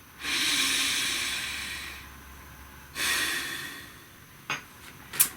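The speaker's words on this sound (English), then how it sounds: "Take a nice deep breath." A slow, deep breath drawn in through the nose and let out with a long, soft hiss, followed by a second breath and a couple of short sniffs, close and quiet with no talking.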